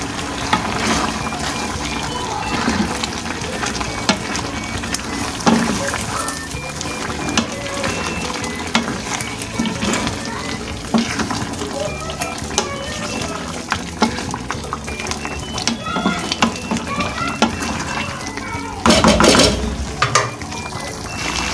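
Chicken curry for a restaurant-style chicken handi sizzles in a pot while being stirred, with constant frying hiss, wet scraping and spoon knocks, loud and close, with no talk.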